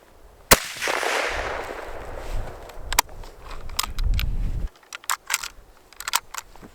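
A Mosin Nagant bolt-action rifle being reloaded outdoors: a sharp crack opens it, then rustling handling noise and a low rumble, followed by a run of crisp, close metallic clicks and snaps from the bolt and cartridges.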